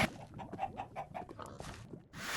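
A Minecraft chicken gives a quick series of soft, rhythmic clucks, several short bursts close together, followed by a brief silence and a rush of game noise.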